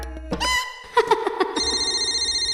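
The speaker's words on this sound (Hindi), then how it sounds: "दुष्यंत का फोन है।" A telephone rings up close, a steady electronic trill that starts partway through and keeps going, preceded by a few brief tonal sounds.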